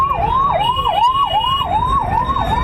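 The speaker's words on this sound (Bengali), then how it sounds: "অ্যাম্বুলেন্সটাকে ছেড়ে দাও গো।" An ambulance siren wails in a rising and falling pattern, loud and close, as the vehicle sits in a traffic jam with motor rumble underneath.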